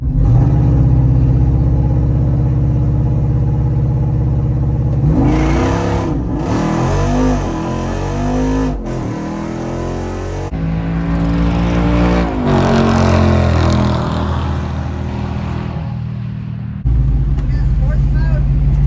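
A Jeep Wrangler Rubicon 392 V8 on massive tires drag races a 370Z, the engine droning loud and near, then revving hard through rising gear pulls before easing off, with people talking over it throughout.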